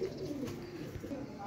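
Pigeons at a breeder's loft, including a red-eyed female, coo softly in low repeated murmurs amid faint background noise.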